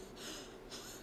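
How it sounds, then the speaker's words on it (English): Character in Dragon's Dogma 2 breathing heavily, two close, breathy exhales about half a second apart, loud and alone. "Also, I could absolutely do without the heavy breathing."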